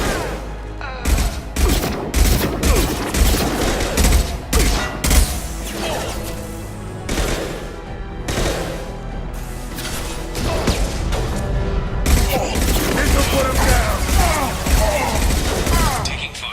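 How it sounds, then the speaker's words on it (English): Sustained Mass Effect 2 firefight with troops being offloaded: loud rapid gunfire bursts and clattering impacts rolling on continuously, punctuated by sharper cracks and crashes, with voices mixed into the action. "Taking fire."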